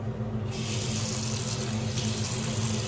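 A tap runs steadily with a full, rushing flow of water into a sink, rinsing a Waterpik flosser tip with soap and water, close and continuous throughout.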